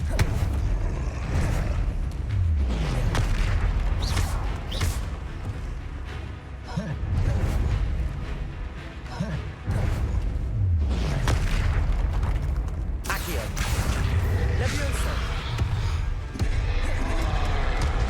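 Confringo blasting spell in Hogwarts Legacy, a series of loud booming explosions with deep rumble, repeated bursts over dense continuous game combat noise.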